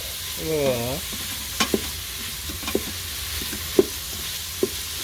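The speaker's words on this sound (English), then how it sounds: "So we're getting that sauteed up pretty good" Onion and garlic sauté in the pot of an Emeril Lagasse pressure air fryer, a steady sizzle under scattered sharp scrapes and taps of a utensil stirring, with one brief low whooping tone near the start.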